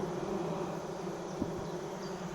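A dense, steady buzz of many bees in a hive fills the air, a continuous low droning hum with no voices.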